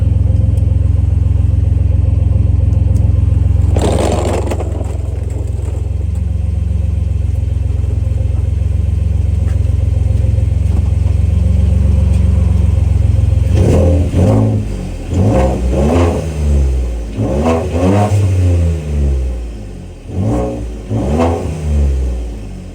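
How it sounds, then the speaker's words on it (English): A 2017 Ford F-150 Platinum with an EcoBoost engine under an exhaust fix: a steady, loud idle rumble, a brief burst, then a series of rising and falling revs toward the end, close up and with no talking. "I'm going to go and rev it up a little bit."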